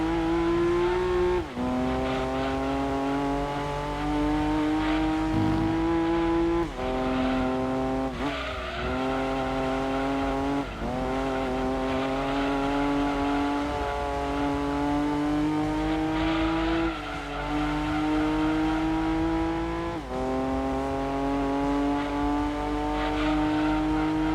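A Datsun race car engine in the Gran Turismo 2 racing game, a continuous loud revving whine that climbs through the gears, dipping briefly at each shift several times, with no talking over it.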